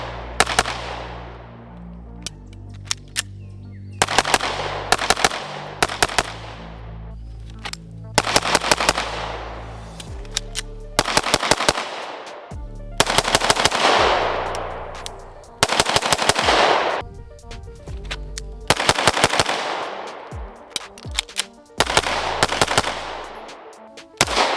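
Gunshots from a ported Staccato C pistol fired in rapid strings, loud and close, with repeated bursts of fast shots separated by short pauses across the clip.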